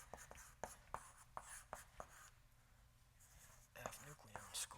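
Chalk writing equations on a board during a physics lecture on Higgs theory, heard as sharp, quiet taps and scratches in an irregular rhythm, with faint speech murmuring in the room.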